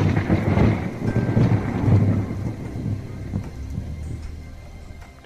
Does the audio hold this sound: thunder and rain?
yes